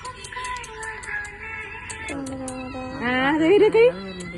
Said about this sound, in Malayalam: പൂച്ചക്കളൊക്കെ